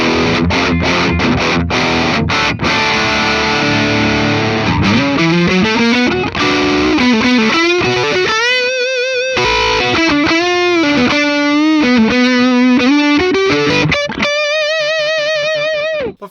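A heavily distorted electric guitar, a Gibson Nitrous Les Paul with humbuckers, plays loud, saturated chords and sustained bending notes, with a gritty, fuzzy tone throughout.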